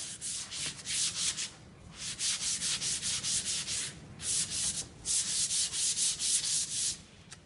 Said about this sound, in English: Now, it's perfectly fine to use this sandpaper on the edge